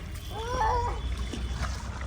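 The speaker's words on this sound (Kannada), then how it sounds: "ಅವ್ರು ನೋಡಿ ಎಲ್ಲ ಹಿಂಗೆ ಎಗರಿಸ್ತಾ ಇದ್ದೀವಿ ಇವಾಗ" Family members splash water about in a swimming pool during a game, a steady wash of sloshing and spraying, with a brief high voice-like tone rising over the water noise.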